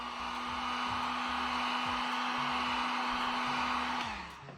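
A heat gun blows hot air over vinyl wrap material as it is worked in, making a steady, close, breathy rush with a low hum that runs for about four seconds and then winds down.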